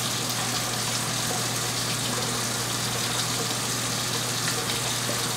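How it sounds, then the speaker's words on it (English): Tap water runs steadily from a kitchen faucet during handwashing, a continuous broadband rush with a low hum underneath, close and unbroken throughout with no talking. "wash my hands here because I done touched a bunch of things before I start touching these"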